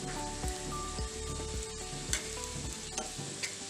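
Kizhi semiya fries in hot oil in a pan, a steady close sizzle with a few scraping knocks and bumps as the pieces are stirred and flipped.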